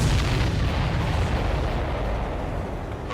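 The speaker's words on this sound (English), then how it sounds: "If we're too close, we'll get caught up in the explosion." A large explosion in the jet combat game Ace Combat 7 during the mission Homeward, a sustained, loud, dense rumbling roar that holds steady for several seconds with no voices.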